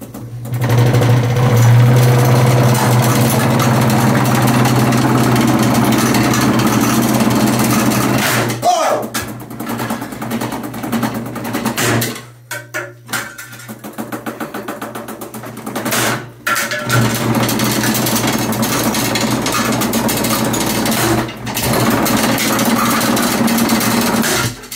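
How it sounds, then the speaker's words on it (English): A used air conditioner unit runs after being switched on, a loud steady mechanical hum and rattling buzz with a low tone, briefly dropping and cutting out midway before resuming. "So I got this used air conditioner, and I think it's going to work great. Let's turn it on."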